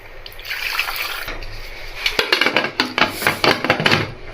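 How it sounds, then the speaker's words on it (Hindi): About 1 litre of water pours and splashes into a pot of beef bone curry in a steady stream, with a few clinks and knocks partway through, close by. "पानी डाल देंगे करीब 1 लीटर"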